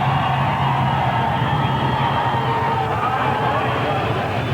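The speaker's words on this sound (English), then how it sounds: "the crowd comes alive" A crowd cheers and shouts at a 1991 NTPA tractor and truck pulling event in Rock Springs, Wyoming, a broad roar of voices under a steady low engine rumble, continuous throughout.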